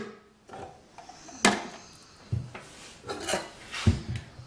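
Celery being peeled by hand for a raw salad, a series of short scraping and knocking strokes against a board, close and uneven, with no talk.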